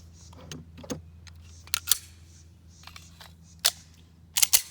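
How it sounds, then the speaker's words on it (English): A dummy round is loaded into a pistol magazine, making a few sharp metallic clicks and snaps spaced irregularly, with a quick cluster at the end, close and fairly quiet over a low hum. "we're going to put the dummy round in"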